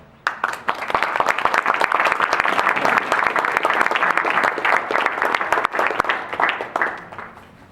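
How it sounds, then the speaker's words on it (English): Enthusiastic audience applause at a festival opening night performance, dense and loud clapping from a full crowd that swells in quickly and holds steady before thinning out at the end, with a few sharp individual claps standing out. "Another round of applause."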